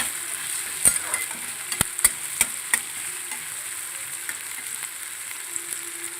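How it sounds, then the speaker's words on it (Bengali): Chopped ginger, garlic and green chillies fry in a pan for spicy chilli chicken, a steady moderate sizzle punctuated by several sharp clinks of a spatula against the pan. "এবার এগুলো ভালো করে ভাজা করতে হবে।"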